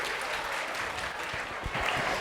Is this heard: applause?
yes